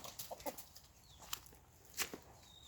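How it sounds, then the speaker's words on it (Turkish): Faint, soft clucking and brief scratchy sounds from a rooster in a garden, with a few sharper clicks and quiet ambient noise. "Bu da horozumuz."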